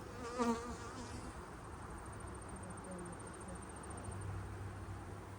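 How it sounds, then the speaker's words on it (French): Honeybees and drones buzz steadily and close during an open hive inspection, with a louder buzz passing near the start and faint, brief vocal sounds beneath. "Ici, on a une abeille."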